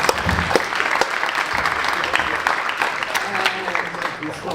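A concert audience at Jobimfest 2025 applauds with dense, steady clapping that continues throughout and tapers slightly at the end.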